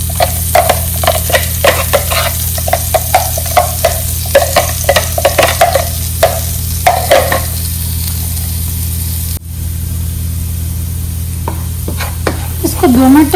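Chopped garlic and chilli sizzling loudly in a hot pan, a constant close hiss broken by repeated stirring scrapes and clatters of a spoon against the metal.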